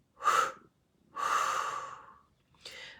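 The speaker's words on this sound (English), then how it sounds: "Deep breath in. And out." A deep breath drawn in and let out slowly, close to the mic: a short inhale, a longer airy exhale, then the start of another breath, with no talking.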